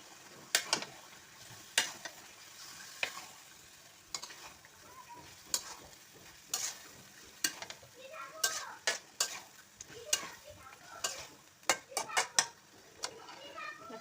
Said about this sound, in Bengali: ভালোভাবে কষাই নিব